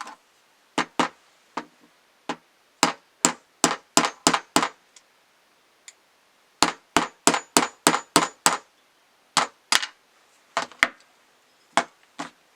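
A hammer tapping a punch to drive out a sight on a Glock 48 pistol, in sharp, close metallic strikes arriving in quick clusters of several blows separated by pauses.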